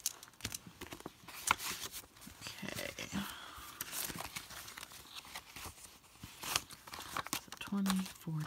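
Paper crinkles and rustles close by in irregular bursts as cash bills are handled and tucked into a paper savings envelope, with a voice speaking quietly over the handling.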